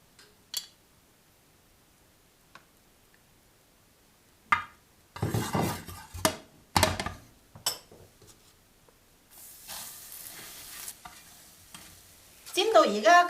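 Spring onion pancake fries in hot oil in a wok, with bursts of sizzling and the scrape and clatter of a utensil pressing and turning it, close and fairly loud between quiet pauses.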